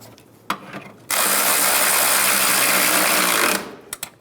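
A power tool, probably a ratchet or driver, runs in one sustained burst of about two and a half seconds to snug down a bolt on a 2000-2007 Ford Focus 2.0L EGR valve. Light clicks of handling come before and after.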